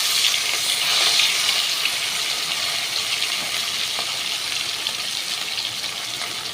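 Small pieces of rui fish fry in hot oil with a loud, steady, close sizzle that crackles evenly throughout, and no voices are heard.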